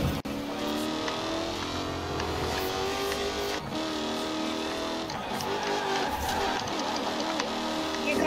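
A race car engine in Forza Horizon 4 drones and revs steadily, rising and falling in pitch, with synthetic game-like quality and a brief skid near the start.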